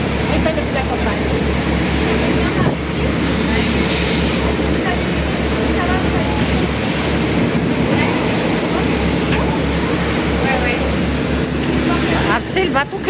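Sea waves and wind on a boat crossing the Mediterranean between Spain and Morocco: a steady, loud roar of wind buffeting the microphone over churning water, with low engine-like rumble throughout and voices talking underneath.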